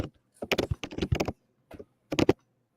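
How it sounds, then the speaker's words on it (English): Loud, close computer keyboard typing in quick bursts of clattering keystrokes, two clusters separated by a brief pause, with no talking. "It is loud when you type."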